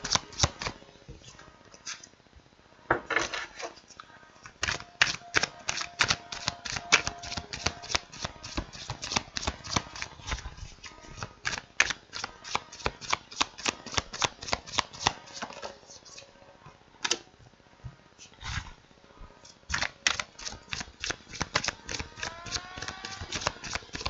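Playing cards are shuffled close to the microphone in rapid riffling bursts, crisp flutters and snaps repeating steadily for about twenty seconds with brief pauses between shuffles.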